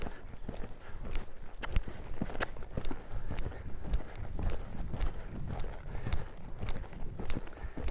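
A horse canters across an outdoor arena, hooves thudding in a steady rolling three-beat rhythm that holds close and fairly loud throughout, with light rustle of tack and footing between strikes.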